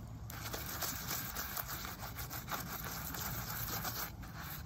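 Grout is rubbed gently into a mosaic pot by hand, making a soft, continuous scraping and rubbing texture heard up close at low volume.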